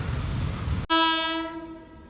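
A passing train, a goods or express, sounds a loud sustained horn close by, cutting in abruptly over a low rumble and then fading as it moves away.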